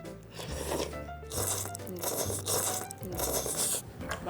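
Someone eats kalguksu noodles topped with seasoned glasswort (hamcho), giving repeated close crunching and chewing bites in an irregular rhythm with no talking.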